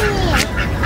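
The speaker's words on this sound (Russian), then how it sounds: "Вот так гуси-утки, которые у нас в России живут." Ducks quacking loudly and close by on a seaside walk in Turkey, a brief burst of harsh nasal calls over a busy outdoor background.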